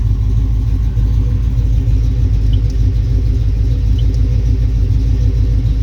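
A 1972 Chevelle SS convertible with its 454 big block engine idling nearly out of fuel, a loud steady low rumble with no revving, continuous throughout.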